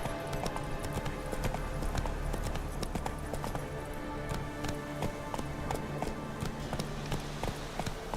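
A horse gallops in The Witcher 3 video game, its hooves clip-clopping in a quick, steady rhythm that stays close and prominent for the whole stretch, with no clear talking.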